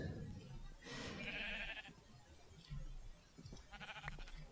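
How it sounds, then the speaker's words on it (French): Sheep in the Minecraft video game bleating in short synthetic calls, two or three brief bleats spaced across a few seconds, faint and alone with no talk. "Comme ça, je peux continuer à repopuler les moutons que j'ai tués."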